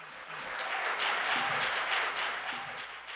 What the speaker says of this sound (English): give another round of applause to Binder Full of Women